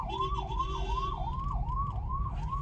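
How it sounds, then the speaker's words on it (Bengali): An ambulance siren wails in a steady rising-and-falling cycle, loud and close, over a low rumble of traffic on a road near a railway crossing in West Bengal. "অ্যাম্বুলেন্স আসছে, ছেড়ে দিই"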